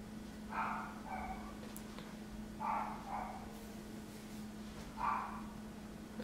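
A single dog barks three times, faint and distant, over a steady low electrical hum in a quiet room.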